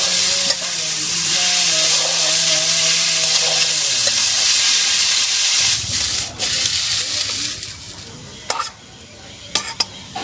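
Greens stir-frying in mustard oil with onion and garlic in a village kitchen wok, a loud steady sizzle with a stirring hum early on, then scraping and clattering of the spatula against the pan as the sizzle continues.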